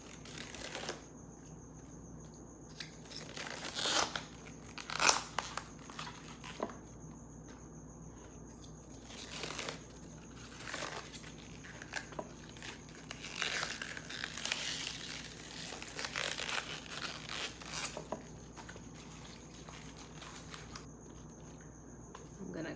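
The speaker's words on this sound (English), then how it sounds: "I'm going to get the 4 leaves of the cabbage off." Outer leaves pulled off a head of cabbage, heard as scattered crisp crinkling snaps and rustles at close range over a steady faint background hum, with no one speaking.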